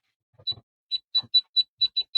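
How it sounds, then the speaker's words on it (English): Biometric safe beeping after the green reset button is held: a run of about eight short, bright electronic beeps in an uneven rhythm, close and clear, with faint clicks and button handling in between. "we're going to hold the green button until it beeps"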